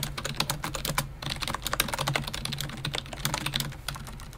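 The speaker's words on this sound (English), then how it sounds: "So I'm just going to go ahead and type in a quote here." A quote is typed on a computer keyboard in quick, steady bursts of close, crisp key clicks that run on without a break, with no voice over them.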